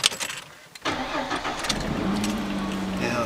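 A Ford Mustang that has been kept on a trickle charger cranks briefly and fires into a steady idle, heard up close. A brief voice can be heard near the start.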